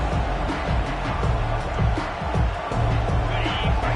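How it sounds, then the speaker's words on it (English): A dense, steady roar of a large college football stadium crowd at Nebraska fills the background while an announcer talks over it. "crowd bringing the energy and noise early"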